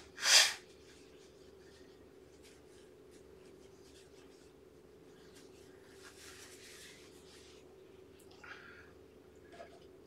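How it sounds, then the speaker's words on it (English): A person blowing their nose indoors: one short, sharp forceful blow right at the start, then quiet room tone with faint rustling and small sounds. "Hold on, I gotta blow my nose."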